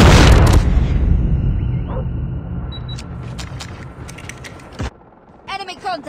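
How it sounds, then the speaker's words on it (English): A flashbang grenade going off in a Call of Duty match: a loud, booming burst at the start that decays into a long rumbling tail, followed by brief clicks and radio-style chatter near the end. "Flashbang!"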